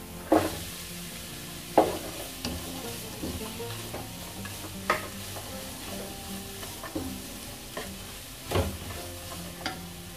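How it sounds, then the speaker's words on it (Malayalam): Four long-sliced onions sautéing in a pan with garlic and ginger for duck curry, giving a soft steady sizzle with occasional sharp clatters of a spoon stirring, close and without voices. "ഇനി ഇതിലേക്ക് സവാള ചേർത്ത് കൊടുക്കാം"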